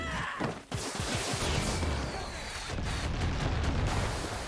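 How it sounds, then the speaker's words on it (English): Dense, continuous rumbling blasts and crackling booms from a Far Cry 6 firefight, with repeated explosions and gunfire-like bursts filling the whole stretch at a steady loud level. "Yeah, even with a lot of explosions,"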